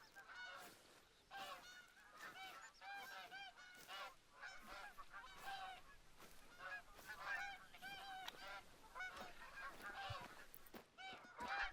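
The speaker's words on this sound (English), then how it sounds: "Although I still do hear the geese" A flock of geese in theHunter: Call of the Wild honks repeatedly, overlapping calls coming in rapid bursts at moderate distance, with no talking over them.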